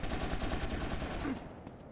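A rapid, continuous burst of AK fire from Grand Theft Auto: Vice City Stories rattles at close range, evenly spaced and loud throughout, then tapers off at the end.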